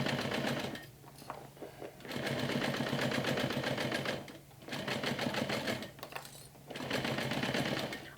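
A sewing machine stitches a mini backpack in loud, close bursts of rapid needle chatter, pausing briefly between three runs.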